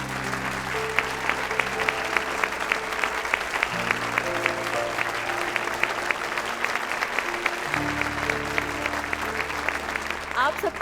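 Dense, sustained applause from a large audience welcoming a woman onto a stage at an event, with steady clapping throughout and music playing underneath.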